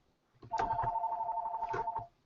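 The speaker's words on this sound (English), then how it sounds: "My phone's ringing." A phone rings with a steady electronic tone lasting about a second and a half, loud and close, with faint rustling around it and no talk.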